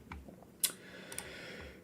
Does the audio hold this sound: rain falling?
no